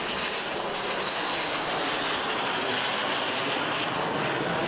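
Jet engines of a B-2 Spirit stealth bomber roar in a loud, constant broadband rush with a faint high whine, sustained throughout without pauses.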